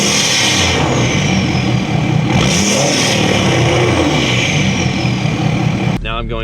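Loud, close rumble of a tuned Ford 6.7L Powerstroke diesel truck engine being revved, swelling in a few surges over steady roar before cutting off abruptly near the end, with no talk.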